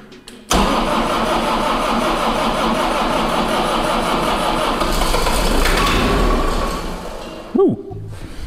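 A diesel engine with glow plugs cranks and fires up at a water pump during winter gold mining, then runs loud and steady for several seconds before the engine note drops and falters near the end.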